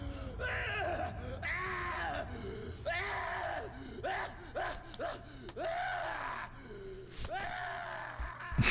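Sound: screams in Call of Cthulhu video game

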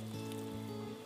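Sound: hot tap water running over plastic glue applicator

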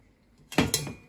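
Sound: broth being strained through a sieve into a pot

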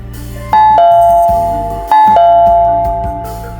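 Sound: doorbell ringing, sound effect in audio story

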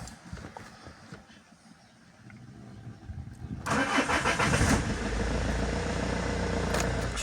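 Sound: Renault Master van engine starting

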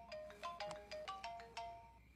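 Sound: mobile phone ringtone in a movie

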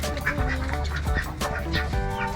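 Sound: ducks quacking

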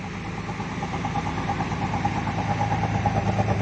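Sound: exhaust of a Hino AK Ranger bus engine

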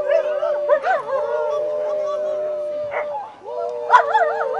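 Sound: greyhound howling when asked to sing

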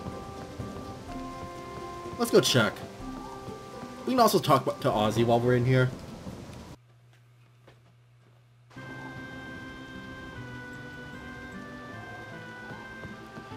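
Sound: rain in the video game Harvest Moon: Animal Parade

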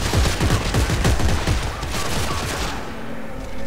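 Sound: gunfire in video game Dead Space 3

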